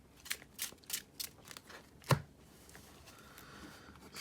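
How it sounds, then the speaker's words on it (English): Quick riffling card shuffles in a short series of crisp snaps, followed by a sharper tap, then faint rustling; close and fairly quiet. "we're going to shuffle this deck up."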